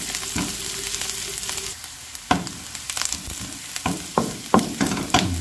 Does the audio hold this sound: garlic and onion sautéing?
yes